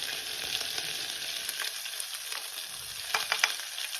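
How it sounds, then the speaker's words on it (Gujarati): Chickpeas and potatoes sizzle in a spiced tempering in a pan, a steady, moderately loud frying hiss with a few sharper crackles and stirring clicks near the end. "ચણા અને બટેટાનો વઘાર થઈ ગયો છે"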